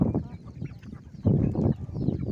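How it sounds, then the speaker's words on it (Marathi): Free-range village hens cluck softly in short bursts while pecking at scattered grain, a quiet, close-up murmur of fowl with no voices. "माझ्या कोंबड्या आता दाणे खात"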